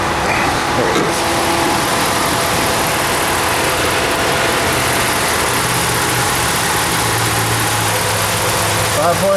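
A 2019 Dodge 1500 4x4 with a 5.7-liter Hemi V8 idles steadily and loudly up close under the open hood, a constant engine drone with a person talking over it.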